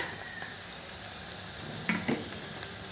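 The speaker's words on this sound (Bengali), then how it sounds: "এটা একটু ভাজা ভাজা করে নেব লাল করে ভেজে নিতে হবে" Green chillies fry in a pan, a steady close sizzle with a couple of brief stirring knocks and scrapes near the middle, no voices.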